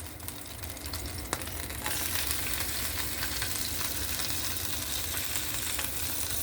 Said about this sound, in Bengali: আমি এটাকে এইভাবে একটু ফ্রাই প্যানে ঢেলে নিব বা একটু ভেজে নিব।